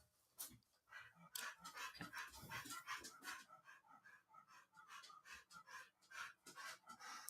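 A pet dog named Bagheera pants rapidly and steadily beneath a desk indoors, close and fairly loud, with quick rhythmic breaths and a few faint whimpers over about seven seconds.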